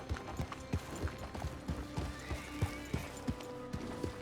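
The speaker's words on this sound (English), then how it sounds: "Someone just whip a horse in there." A horse in the RedM western game lets out a loud whinny among steady, rhythmic hoof clops on hard ground, the clip-clop repeating evenly throughout with a faint background hum.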